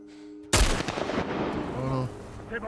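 A sniper rifle shot cracks loudly in The Last of Us Part 1, a sharp burst followed by a rumbling echo and scattered in-game noise with faint voice-like sounds over roughly two seconds.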